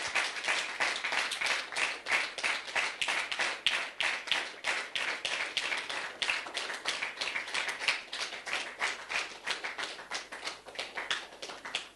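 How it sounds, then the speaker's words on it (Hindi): Audience applause with steady rhythmic clapping at a devotional gathering, dense and sustained throughout, close and fairly loud with no talk. "तालियां तो बजाइए,"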